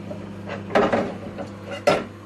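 A pan, a large battered wok, is handled in a home kitchen: two distinct clanks of metal set down or knocked, with soft shuffling between, close by and alone.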